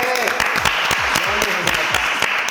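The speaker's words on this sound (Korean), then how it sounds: "저는 박수부터 치고 하고 싶은데 우리 주원이가 진짜 고생 많이 했거든요." A group applauds during a K-pop idol group's studio talk session, brisk clapping from several people layered with excited voices and whoops throughout.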